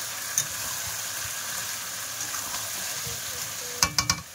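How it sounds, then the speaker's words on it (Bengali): Spice paste for a fish curry and meat being fried in pans, a continuous sizzle with occasional stirring scrapes and a quick burst of metallic clinks near the end; no voices. "বন্ধুরা এদিকে কিন্তু মাছের ঝাল হবে বলে মশলা কষাই করছে, আর এই এদিকে মাংস কষাই হচ্ছে"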